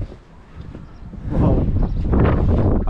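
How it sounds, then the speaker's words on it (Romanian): Wind blows outdoors in a garden in Tinghir, Morocco, buffeting the microphone with a loud, low rumbling roar that grows stronger halfway through and stays steady. "Aici bate vântul."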